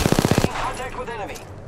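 Machine gun fire in a video game: a quick, evenly spaced burst of about seven loud, close shots, followed by a lingering echoey tail.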